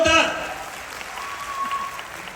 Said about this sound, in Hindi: एक बार जोरदार तालियां होना चाहिए सर के लिए, जोरदार